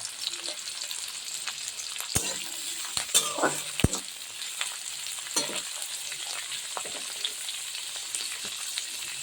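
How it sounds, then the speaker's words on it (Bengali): Onion and ginger frying in oil in a pan over a low flame, a steady soft sizzle with a few sharp clinks of a spoon against the pan, no talking. "পেঁয়াজটা যখন এইভাবে ভাজা হচ্ছে তখন দিয়ে দিচ্ছি কিছু কেটে রাখা আদা"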